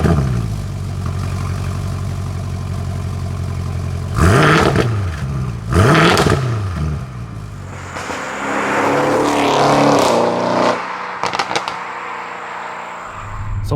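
An Audi RS7 of about 700 hp hums, then revs up hard twice, before rising into a sustained acceleration with tire and road noise as it drives on the road.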